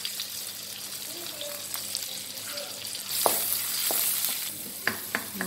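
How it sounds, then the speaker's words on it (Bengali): Chopped raw onion and garlic hiss and crackle as they fry in hot oil before lentils with drumsticks are added, a close steady sizzle with occasional spoon scrapes and a louder surge partway through. "এখানে কাঁচা সরি পেঁয়াজ আর হলো রসুন দিয়ে দিচ্ছি কুচা কুচি করে আর কি।"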